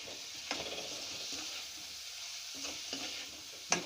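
Liver dry-frying in a pan after colour powder goes in, a continuous close sizzle with a few scraping stirs spaced through it and one sharper clack near the end, no voices.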